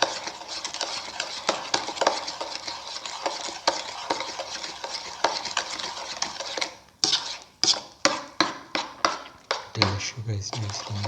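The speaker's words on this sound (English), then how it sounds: "Till the sugar is nicely mixed with the rest of the mixture. Keep on mixing." A spoon stirs sugar into a watermelon, banana and milk mixture in a bowl, giving continuous soft scraping that turns into a run of distinct, rhythmic clinking strokes near the end.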